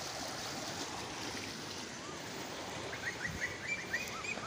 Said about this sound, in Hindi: पानी का बहाव चेक करें